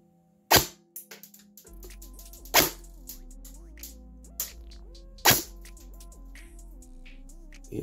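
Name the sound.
airsoft gun shots fired through Acetech AC5000 chronograph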